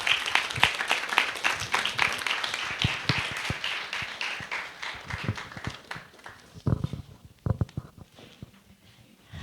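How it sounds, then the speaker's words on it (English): Conference audience applauding to welcome a speaker at a Central European education event, a full burst of clapping that thins into scattered claps toward the end, with no talk over it. "Please welcome her with a big applause."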